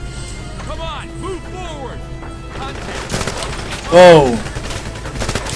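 Gunfire in the game 007 Legends at Fort Knox, with a few sharp shots and impacts standing out amid game noise while people talk and exclaim.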